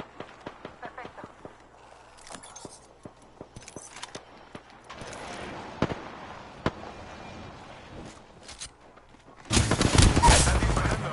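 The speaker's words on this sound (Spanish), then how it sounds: "Están disparando." Gunfire in the video game Apex Legends: scattered single shots and short bursts, growing into a dense loud volley at the end, with a voice talking quietly in places.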